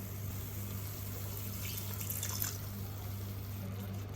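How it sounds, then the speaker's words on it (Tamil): Water goes into sautéing masala in a pan, a brief faint splash and trickle about midway over a low steady hum, quiet and with no voices. "லைட்டாக தண்ணி ஆட் பண்ணிக்கலாம், இல்லைன்னா அடி பிடிச்சிரும்."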